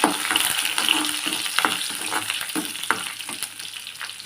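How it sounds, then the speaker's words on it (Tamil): Steady crackling sizzle of garlic, curry leaves and dried red chillies frying in hot oil for tamarind curry, with sharp pops and occasional scraping stirs close by; no voices. "இதையெல்லாம் வதக்கிக்கலாம்"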